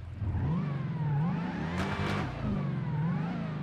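Ram TRX pickup truck engine running with a steady mid-pitched whine and rumble, close by, holding a constant drone with slight rises in pitch over a few seconds.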